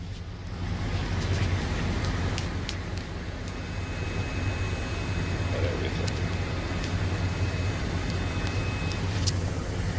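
A 1991 Bentley Turbo R with 27,000 miles starts up, then settles into a steady, full, close engine rumble that holds without a break.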